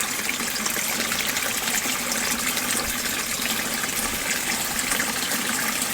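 Water trickles and flows steadily into a garden pond, a constant, fairly close splashing gush with no voices over it.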